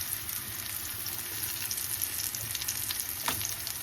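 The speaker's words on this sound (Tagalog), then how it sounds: "Ayan, okay na itong sibuyas. Ilagay natin yung bawang." Chopped onion and garlic fry in hot oil in a pan for squid adobo, giving a steady, close, continuous sizzle with light crackles and no voices.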